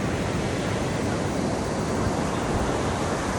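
Ocean waves breaking on a beach make a steady, loud broadband wash of surf that stays constant and unbroken, with some wind rumble mixed in.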